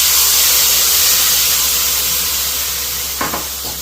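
Tamarind water sizzles loudly in a pan of fried peanuts, a steady close hiss of steam and spatter with a brief clatter near the end.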